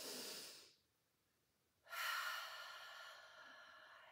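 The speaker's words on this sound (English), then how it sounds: "We're going to take a nice deep inhale." Deep breathing during a Pilates reformer class: a soft breath, a brief pause, then a longer, louder inhale close to the microphone, quiet overall.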